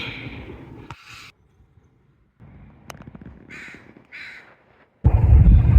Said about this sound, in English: This crow has a really large stick in its beak.